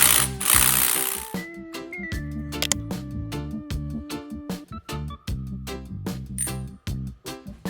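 A nut being spun off a Jeep CJ7 T18 Borg Warner transmission with a ratchet, rapid steady clicking close up that pauses and resumes in short runs after an opening burst of noise.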